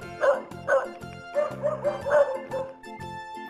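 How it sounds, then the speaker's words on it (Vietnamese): A dog gives a quick run of short, yipping barks, close and clear over soft background music. "Con chó."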